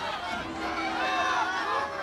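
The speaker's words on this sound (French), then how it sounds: "la foule est en délire" Crowd at Paris Games Week during a Ghost of Yotei speedrun contest, a continuous excited hubbub of many voices and cheers, steady and moderately loud throughout.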